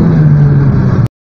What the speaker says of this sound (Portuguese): Por incrível que pareça, o Corsa faz drift.